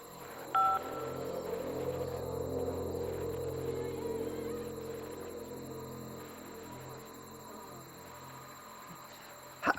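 Phone dialing tones inside a prison video game, a short run of keypad beeps near the start followed by a steady low electronic hum that fades, ending with a brief click.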